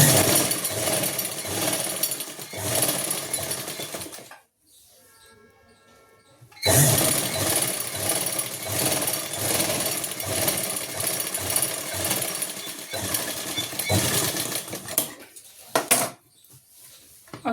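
Sewing machine stitching a half elastic belt onto palazzo pants, a loud rattling run broken by a short pause, then a long continuous burst of stitching.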